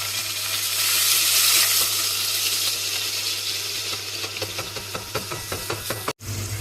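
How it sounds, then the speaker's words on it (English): Chopped onion sizzling in a pan of rendered bacon fat, a steady loud frying hiss with light stirring scrapes and taps toward the end, close up. "I added the onion to the pan."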